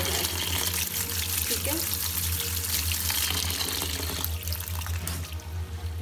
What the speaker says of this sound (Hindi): इसको हम एक दफ़ा ठंडे पानी से लाजमी गुजारेंगे, ताकि ये आपस में स्टिक ना हो जाए